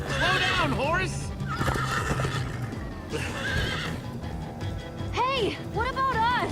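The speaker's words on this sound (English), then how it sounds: "Slow down, horse!" Game horses in Minecraft Story Mode whinny several times in loud, wavering calls over galloping hoofbeats and a dense, constant action-scene background.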